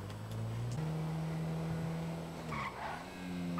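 Car braking and skidding while driving in GTA 5 Online, a steady engine drone shifting pitch with a short tire screech near the end, close and continuous with no talk.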